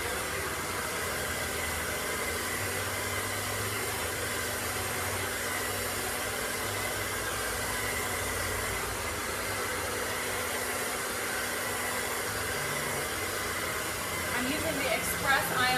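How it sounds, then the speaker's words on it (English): An Express Ion Dry Plus hair dryer blows steadily on hair for a long stretch, a loud, even close-up roar that changes only slightly in tone near the end. "Express Ion Dry Plus, which has the Express Ion Complex infused into it, like all of the other Express Ion tools"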